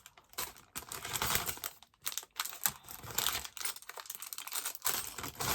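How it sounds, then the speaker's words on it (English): Crinkly plastic rustling and crackling, close up and fairly steady, with short pauses and bursts as something is handled and rummaged through. "Lots of rustling here."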